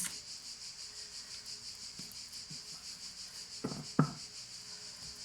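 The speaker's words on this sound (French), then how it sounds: "les cigales, waouh! Elles ont du coffre" Cicadas on a summer day sing in a steady, pulsing high-pitched drone that fills the background, faint and unbroken, with a few soft knocks and rustles near the end.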